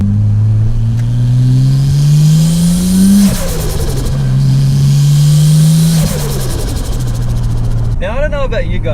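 A loud Nissan RB25 engine with a bolt-on turbo kit revs up twice in long rising pulls, each dropping back with a whooshing release and sputter, then a brief fluttering chirp at the end.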